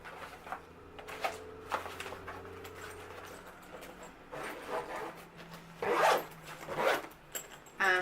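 A zipper on a fabric train case is pulled in a few quick, quiet strokes close up, with soft rustling and handling noise in between.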